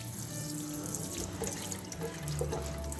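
Cold tap water runs steadily into a sink, a continuous close splashing rush with faint drips, no voices.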